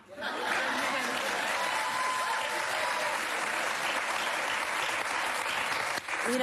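A television studio audience applauds and cheers loudly and steadily, dense clapping with some chuckles mixed in, holding for several seconds before dipping briefly near the end.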